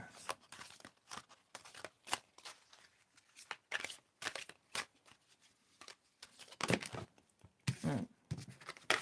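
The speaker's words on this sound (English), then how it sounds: "going to mix these cards up" A small deck of playing cards is mixed by hand, not riffled, making a rapid series of soft papery slaps and flutters in irregular bursts, close and fairly quiet.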